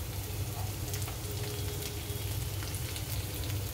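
Finely chopped cabbage stir-frying in a pan with garlic, a steady close crackling sizzle with a low rumbling hum underneath, continuous and even with no talking.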